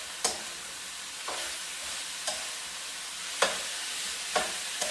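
Pork and cauliflower stir fry being stirred in a pan: about five crisp spatula scrapes roughly a second apart over a steady background sizzle, close and clear, with no talking.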